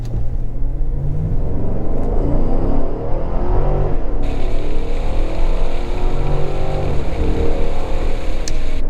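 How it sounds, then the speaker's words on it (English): A 2021 Cadillac Escalade Sport Platinum's V8 gives a loud, continuous deep rumble as it accelerates, heard from inside with steady road and wind roar building underneath and a slight shift in tone partway through. "a nice V8 rumble in the background to give you something to listen to as you accelerate"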